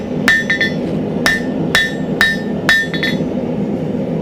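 A blacksmith's hammer strikes hot steel stock on an anvil to thin it, about eight sharp ringing blows in an uneven rhythm, close and loud.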